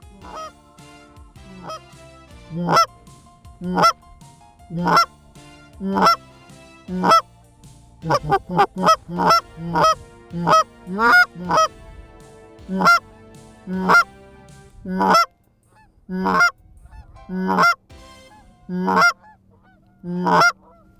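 Canada geese on the Missouri River in late season, a steady series of loud, close honks repeating every second or two, with a quick burst of overlapping calls midway before the regular rhythm resumes.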